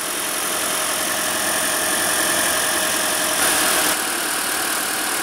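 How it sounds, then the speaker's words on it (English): Engine of a 2015 Toyota Prius hybrid with a 1.8L four-cylinder kicking on, a steady broadband hum and road rumble heard from inside, rising slightly for a moment midway. "And as you can see there, the motor just kicked on."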